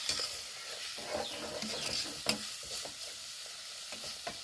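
Vegetables for spicy vegetable rice noodles sizzle in a hot pan while a utensil stirs them, a steady quiet frying hiss broken by soft scraping strokes, close and alone.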